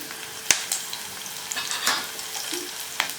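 Spices with mild Kashmiri chili powder sizzle steadily in a pan while a spoon stirs them, adding scattered clinks and scrapes, for a leftover roti dish.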